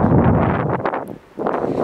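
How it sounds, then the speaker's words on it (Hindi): Strong, steady wind buffeting the microphone at a mountaintop lookout high above the Beas River valley near Bhuntar, a loud roaring gust that drops away briefly before surging back. "बहुत मस्त हवा है और तेज़ हवा थोड़ी"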